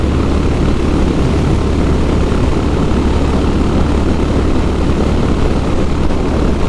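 A Honda Highness CB 350 motorcycle runs at full throttle in fifth gear above 110 km/h into a headwind. A loud, constant engine drone blends with heavy wind rush and does not let up.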